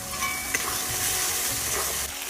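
Spice masala fries in a pan on low heat for aloo dum, a steady close sizzle with occasional scraping stirs of a spoon against the metal.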